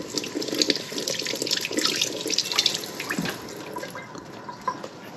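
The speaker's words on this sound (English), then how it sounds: "Actually, I'll rinse it off real quick." A tomato rinsed under a running faucet outdoors, a steady close splash and hiss of water with small shifting spatters as the fruit turns in the stream, no voices.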